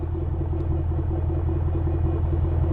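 Ford Mustang GT V8 fitted with a Borla S-Type exhaust idling, heard from the rear of the car: a steady, deep, throbbing burble holding an even loud rumble throughout, with no talking.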